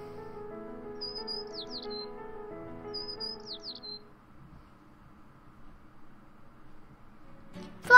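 A small bird chirps in the casual video game Delicious 15, two quick high tweets over soft background game music that fades before a brief sharp noise at the end.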